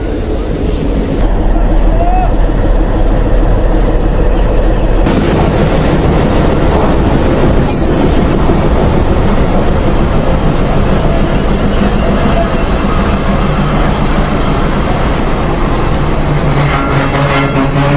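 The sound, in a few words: shuttle train entering Jagati railway station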